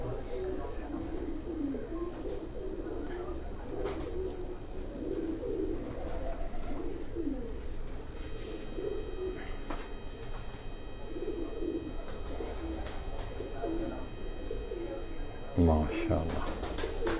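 Domestic pigeons kept by a fancier in Pindi Bhattian coo in low, rolling phrases through the whole stretch, moderately near, with talk mixed in and a brief louder knock near the end.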